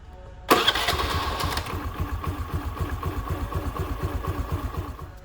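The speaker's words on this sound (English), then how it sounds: "just give the engine a start and see everything is in order" A Honda Activa 3G scooter engine starts with a sudden loud burst, then settles into a steady, rapidly pulsing idle close by, with no talking.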